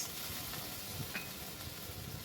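Spice paste with garlic and a little onion sautés in a pan, a soft steady sizzle broken by faint scraping stirs and small spatters, fairly quiet and with no voices.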